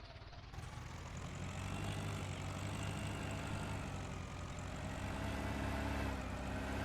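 Tractor engine in Farming Simulator 19 on a small French farm map, a steady low diesel rumble with a continuous droning hum throughout, loud and close, no talk.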